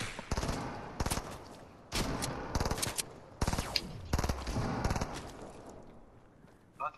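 Bursts of gray assault rifle fire in Fortnite rattle out in several rapid volleys separated by brief gaps, fairly close and crisp, with a faint voice near the end.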